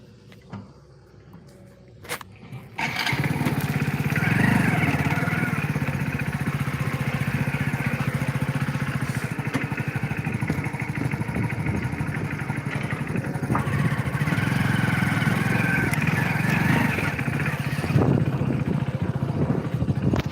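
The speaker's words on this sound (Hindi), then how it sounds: "हमारी बाइक चल रही है" A motorcycle being ridden, its engine starting up after a couple of knocks and then running with a steady, loud, close drone that holds throughout with slight swells, with no talk over it.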